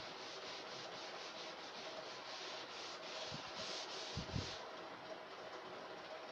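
A duster rubbing chalk writing off a classroom board, soft scraping strokes repeating quietly, with a couple of sharper knocks toward the end, no talking.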